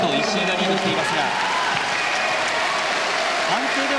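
Loud, steady roar of a boxing arena crowd cheering and applauding before the final round of a ten-round 56.2 kg bout, filling the whole stretch, with a commentator talking over it.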